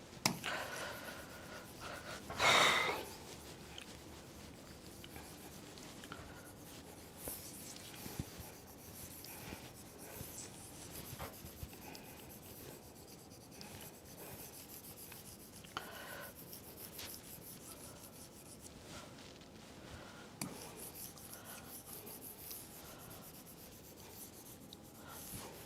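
An eraser rubs writing off a board in a classroom during a lesson on Indian taxation, with one louder burst of scrubbing early on, then soft intermittent scraping and rubbing over a quiet room, no voices.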